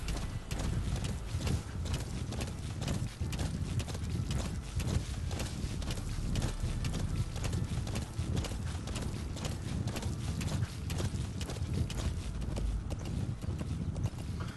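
Horse hooves clip-clop steadily and loudly throughout a Metal Gear Solid V: The Phantom Pain game scene, a continuous rhythmic trotting over a dense, busy background.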